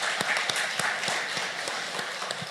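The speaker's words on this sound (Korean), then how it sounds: "우리 원로 목사님께도 축복의 박수를 같이" A church congregation claps for its elder pastor during a Sunday service, a steady, fairly close patter of hands with sharper individual claps standing out.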